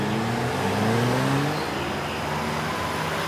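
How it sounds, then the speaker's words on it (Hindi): A car engine revs with rising and falling tones that sweep upward and then settle into a steady, loud rumble, with no talk over it. "गाड़ी की आवाज।"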